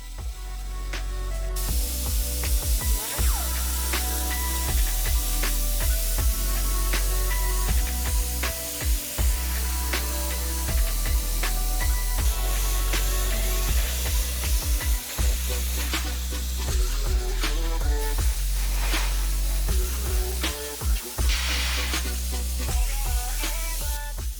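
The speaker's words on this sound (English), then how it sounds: "For this I used my airbrush." An airbrush sprays mixed natural brown paint onto a 3D printed hanging plant pot, giving a steady close hiss broken by short pauses and repeated bursts throughout.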